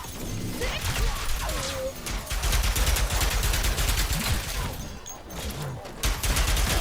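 Enforcer weapon firing in Ratchet and Clank: Rift Apart, a dense run of loud, rapid gunfire bursts and heavy impacts packed into a busy action mix, with game music and effects layered underneath.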